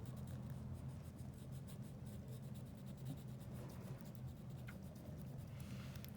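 Crayon colouring on paper pressed a little harder, a steady close scratchy rubbing that continues unbroken the whole time, with no voices.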